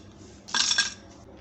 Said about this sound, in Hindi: बर्फ़ डाल रही हूँ